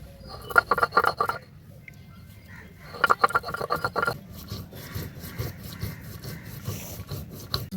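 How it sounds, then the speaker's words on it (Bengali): Coriander and cumin seeds are ground into a paste with rough, rasping rubbing strokes, first in short rhythmic bursts and then in steadier back-and-forth scraping, close and fairly quiet. "তো আগে আমি ধনে জিরেটা বেটে নেবো।"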